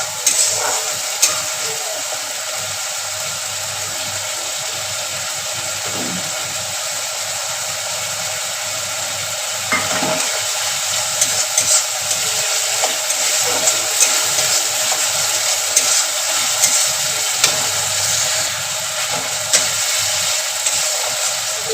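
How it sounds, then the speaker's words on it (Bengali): Ground spice paste of cumin, chilli, ginger, garlic and onion frying in a pan for an egg curry, a steady dense sizzle running throughout with occasional light scrapes and clicks, no talk. "একটু মশলাটাকে কষে নেব।"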